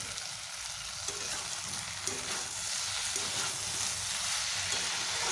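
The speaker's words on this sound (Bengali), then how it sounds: "নুন মিশিয়ে এইভাবে কষিয়ে নিচ্ছি" Fried potatoes and ridge gourd sizzle in a pan as they are stir-fried with salt, giving a steady, fairly quiet crackling hiss with faint stirring, and no voices.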